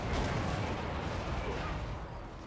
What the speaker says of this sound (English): Cannon! For the ancestor gods!